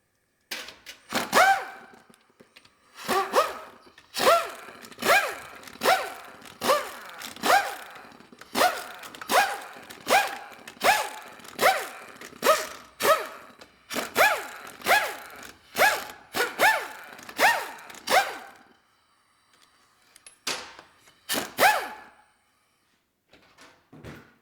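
A 1/2 inch ratchet loosens the bolts on a transmission pan and valve body, giving a long run of crisp, evenly spaced clicking bursts, close and fairly loud, with short pauses between bolts.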